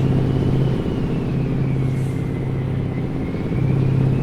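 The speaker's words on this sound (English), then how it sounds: "It seems like that turbo whistling sound is more prominent." Mack E9 truck engine in American Truck Simulator, a steady loud low diesel drone with a thin high turbo whistle riding above it, continuous throughout with no talk.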